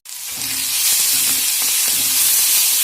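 Two finely chopped large onions frying with mustard seeds in a pan for a drumstick stir-fry, a loud continuous sizzle with a few soft stirring scrapes beneath it.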